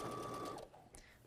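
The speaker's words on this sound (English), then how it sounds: "we'll stitch again with that center needle straight stitch" A sewing machine running a center-needle straight stitch on a flying geese block for a Civil War quilt, a quick close whirring burst of stitching that stops abruptly after about half a second.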